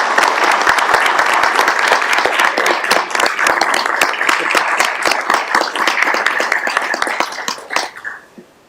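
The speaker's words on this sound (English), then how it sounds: "Need a round of applause." People at a city council meeting applaud police command staff, brisk close clapping from a modest group with individual claps standing out, sustained for several seconds before fading out abruptly.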